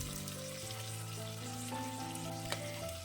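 Thinly sliced tomatoes and curry leaves sauté in a pan with a soft, steady sizzle, and faint sustained tones sound in the background.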